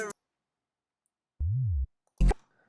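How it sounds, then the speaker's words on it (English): A single 808 glide bass note built in the Serum synth, a deep sine-like sub tone that bends up and back down over about half a second, standing alone between brief bursts of other sound. "I've got this little 808 glide, which I made on Serum"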